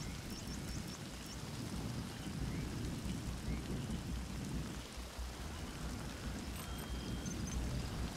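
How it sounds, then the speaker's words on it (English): Steady heavy rain pours throughout in a video game, with low rumbling thunder rolling underneath and a few faint electronic tones near the end. "Rain, come on. Go away already."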